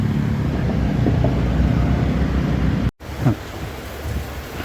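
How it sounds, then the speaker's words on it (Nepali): Sudden rain falls outside, a steady broadband hiss of drops on surfaces throughout, cut by a brief dropout, then continuing with occasional low rumbles. "यस्तो पानी आएछ बाहिर मजाले"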